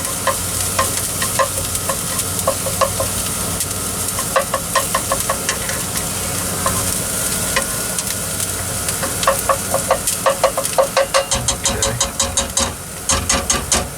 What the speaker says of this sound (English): we're just trying to get this all caramelized here, brown it up. This is the onions, garlic.